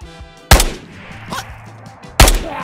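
Two sharp, loud sniper rifle shots in the video game Ghost of Tabor, fired about two seconds apart, each a sudden crack with a short rumbling tail over quiet background ambience.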